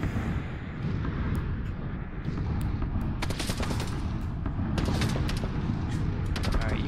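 Rapid bursts of gunfire in PlayerUnknown's Battlegrounds, dense overlapping shots that come and go over a steady game background, fairly loud throughout with no talk.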